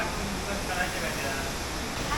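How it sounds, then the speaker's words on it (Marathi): Steady broadband rush of water flowing beside Dhootpapeshwar temple during the rainy season, a continuous loud roar filling the whole clip with no voices. "तुम्हाला आवाज येत असेल पाण्याचा"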